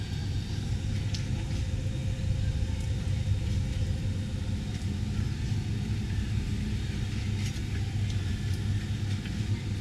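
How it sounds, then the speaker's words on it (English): The starboard Bravo 3 dual propellers on a 2007 Sea Ray 290 Sundancer spin with a steady, dense mechanical rumble and hum, continuous and fairly close with no pauses. "Decent spin on that starboard dual prop right there."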